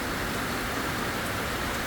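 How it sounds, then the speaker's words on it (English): Heavy tropical downpour during the Belize rainy season, a dense, steady broadband roar of rain pouring down without pause, loud and close with no voices. "this is how fast and how hard that these downpours can just come out of nowhere"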